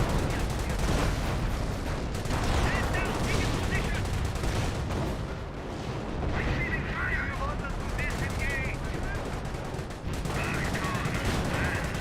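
Dense, continuous battle din from a Company of Heroes match, with a Priest self-propelled artillery gun firing amid steady gunfire and explosions, loud throughout and overlaid with brief tonal game effects.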